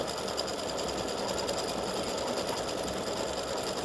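An embroidery sewing machine stitches out satin-stitch freestanding lace horseshoe earrings for St Patrick's Day, giving a steady, loud, continuous mechanical whir with a rapid needle rhythm throughout and no talking.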